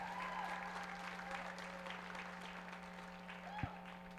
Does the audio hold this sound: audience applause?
yes